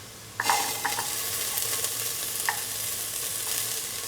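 Shallots and garlic hit a hot pan and sizzle at once in a steady, moderately quiet hiss, with a few light clinks of stirring early on.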